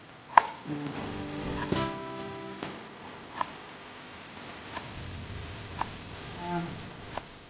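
Chilies pounded in a mortar while spicy grilled tuna is prepared, a few sharp irregular knocks at close range over a faint background hum.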